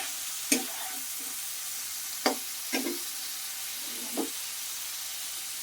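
Ingredients stirred in a hot frying pan under a steady sizzle, with a few distinct scraping strokes of the spoon spaced out across the clip and no talk.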